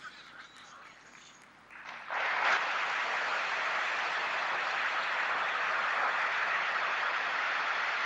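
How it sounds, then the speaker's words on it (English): Applause from an audience at the National Women's Parliament swells into steady, continuous clapping that fills the hall, a dense even wash of hands sustained for several seconds with no voices. "A bigger round of applause, please."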